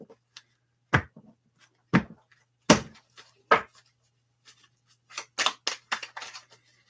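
A deck of tarot cards being cut and handled: a string of sharp, separate snaps and slaps, close and fairly loud, spaced irregularly with a quick cluster of shuffling flicks near the end.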